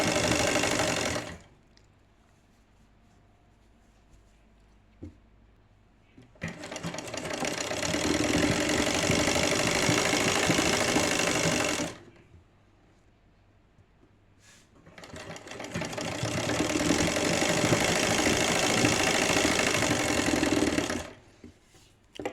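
Sewing machine stitching lace onto a dupatta, running in two long steady bursts of rapid mechanical whirring separated by quiet pauses, close and loud with no talk.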